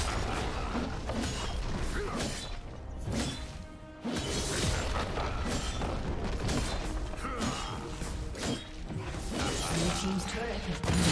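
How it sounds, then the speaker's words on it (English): A turret is destroyed in League of Legends during a Darius versus Sett top-lane match, heard as dense crashing, creaking and booming impacts amid busy game effects, with an announcer voice. "turret has been destroyed."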